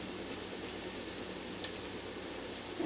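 Salmon patties fry in a pan with a steady, dense sizzle and crackle that holds even throughout, close and unbroken, with no voices.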